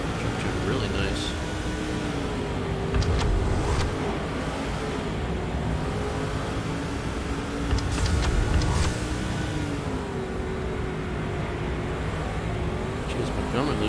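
A racing truck engine drones steadily in the NASCAR 06 video game, a continuous mid-level roar with slight pitch shifts through turns and a louder swell or two, while a voice talks over it.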